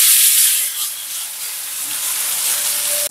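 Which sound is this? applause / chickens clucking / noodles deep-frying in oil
noodles deep-frying in oil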